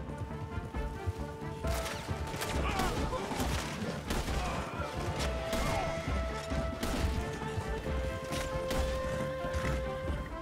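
Rapid bursts of gunfire and sharp impacts in the video game Red Dead Redemption 2 crackle in a busy, chaotic barrage, with scattered crashes layered over a continuous background din.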